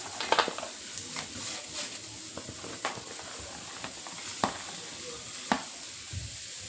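Onion roasting in a pan for black masala, faint intermittent sizzling with scattered scraping and sharp clicks of a spatula stirring, close and quiet.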